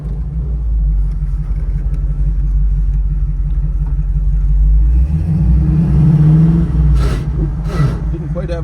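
A 1978 Pontiac Trans Am Firebird with a T-10 four-speed rumbles steadily from inside the cabin while driving, its low engine drone swelling slightly midway before brief higher bursts near the end.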